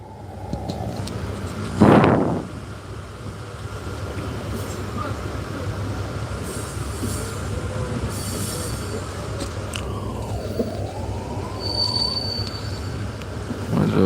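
Steady rumble of a moving train heard from inside a coach at night, a sustained low roar with a brief louder burst near the start and a faint squeal later, continuous throughout.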